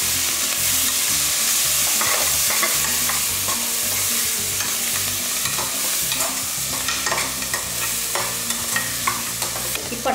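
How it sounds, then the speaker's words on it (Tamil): Onions and tomatoes sauté in a pan for a Kongu-style rice and dal dish, a steady sizzle and crackle with repeated stirring scrapes throughout, close and loud with no voices. "இப்போ என்ன பண்ணலாம், வெங்காயம் இதெல்லாமே நல்லா வதங்கிடுச்சு."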